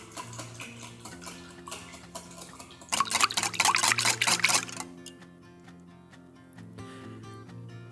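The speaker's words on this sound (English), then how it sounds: "Whisk the mixture until smooth." A whisk beats eggs with chicken broth in a bowl, giving a rapid run of close clicking and liquid sloshing strokes that peak in a brief vigorous burst, then settle into lighter taps over background music.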